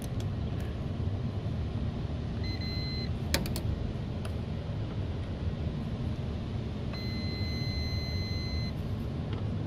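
Two electronic beeps from a multimeter on continuity testing an HVAC package unit, a short one and then a longer steady tone, over a constant low background hum.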